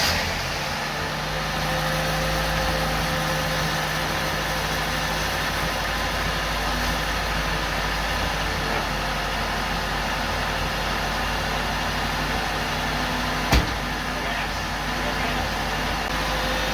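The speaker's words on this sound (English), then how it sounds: "I'd say the idle's just really slow." A carbureted Dakota parts truck engine idles slowly and steadily, a low continuous rumble close by, with one sharp knock near the end and people talking over it.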